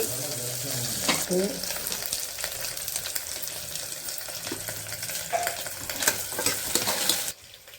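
Onion frying in a pan for a curry, a steady loud sizzle with occasional stirring clatter throughout, cutting off abruptly near the end.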